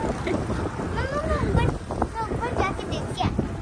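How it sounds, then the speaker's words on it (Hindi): Strong dusty wind gusts roaring against the microphone in continuous rumbling buffets, with people talking over it. "एकदम से इतनी तेज हवा चल पड़ी है।"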